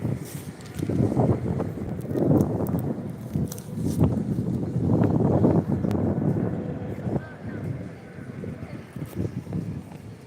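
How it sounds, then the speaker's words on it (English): Gusts of wind buffet the microphone in rough, uneven bursts at an outdoor protest, with a person talking faintly underneath the rumbling blasts. "it's super windy"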